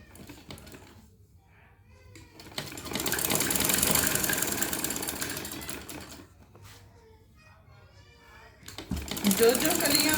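A sewing machine stitches the panels of a kali-style frock in bursts of steady mechanical whirring, loud and close, with pauses between runs while someone talks.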